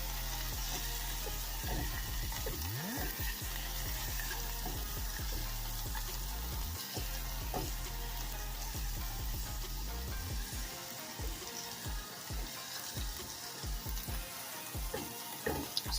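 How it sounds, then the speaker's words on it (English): Cannabis ramen ingredients (leaves, seeds and noodles) bubble gently in oil on a large burner turned very low, giving a steady, close sizzle and crackle with occasional stirring clatter and no voices. "It's bubbling in this oil a little bit, but it's not at a searing 400 degrees. It's just sort of simmering"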